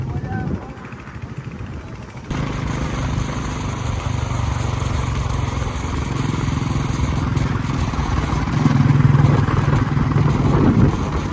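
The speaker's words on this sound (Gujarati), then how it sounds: "પછી આપણે ટ્રાય કરી બુલેટની રાઇડ્સ" A Royal Enfield Bullet motorcycle on a night ride from Rajkot to Chotila, its engine starting up after a quiet moment and then thumping steadily and loudly, rising further near the end.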